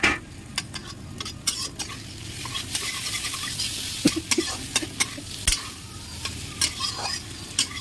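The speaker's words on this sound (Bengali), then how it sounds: "একটু নাড়িয়ে দেবো আর একটু ঢেকে দেবো" Potato and fish curry stirred in a pot over a village cooking fire, with steady soft sizzling and repeated scraping clicks from the spoon against the pot, close and fairly loud throughout.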